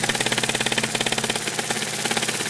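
A small twin-cylinder model steam engine, a PM Research 2A being broken in, chugs steadily with a fast, even exhaust beat and mechanical rattle, close up and alone.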